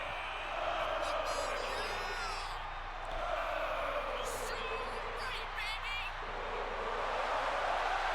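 Arena crowd in the WWE 2K24 wrestling video game, a steady distant roar of cheering and whooping that runs the whole time, with a few faint voices and brief sharp noises on top.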